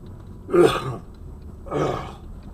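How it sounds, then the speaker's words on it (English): Two throaty clearing sounds, the first louder and sharper, the second softer about a second later, close to the mic with a quiet background. "Pardon me, I'm clearing my throat."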